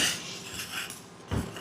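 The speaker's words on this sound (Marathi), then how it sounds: "हलवून घेऊया." Spoon scraping and rasping through upma premix in a cooking pot, a few uneven stirring strokes with a duller clunk near the end.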